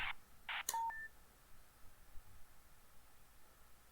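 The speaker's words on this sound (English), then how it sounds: "I set a longer ringtone to not miss messages, but it's really annoying." A phone ringtone for an incoming message in the video game Black Box LSS The Shining Immortal plays as two buzzy electronic tone bursts, then a couple of short beeps, before falling quiet.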